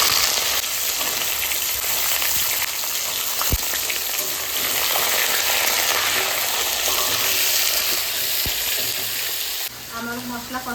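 Taro stolons fry in hot oil spiced with bay leaf, cumin and Kashmiri chilli, making a loud, steady, close sizzle that runs almost unbroken before it briefly shifts near the end.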